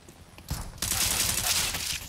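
Rapid gunfire in Counter-Strike: Global Offensive on the Cache map, a short burst near 0.5 s and then a loud, dense volley of shots lasting to the end, close and sharp with no talk.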